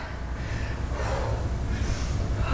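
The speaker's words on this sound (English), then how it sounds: "can you hear me breathing?" Heavy, labored breathing from a person mid-workout after sumo squats, close and continuous, with ragged gasps and snorting exhales and no clear words.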